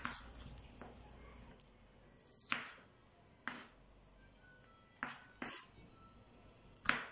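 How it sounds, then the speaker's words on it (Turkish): A knife finely chopping onion and garlic on a board: sparse, quiet, separate cuts at irregular intervals against a soft background. "Bir tane soğan, bir tane sarımsak ince ince yemeklik olarak doğruyorum."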